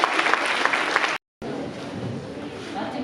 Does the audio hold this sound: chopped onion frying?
no